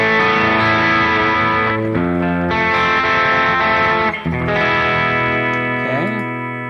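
An electric guitar runs through the Neural DSP Gojira X plugin on its Bold Warm preset, giving loud, saturated distorted chords with chorus shimmer that ring out in sustained blocks, short gaps between them, and a brief pitch bend near the end.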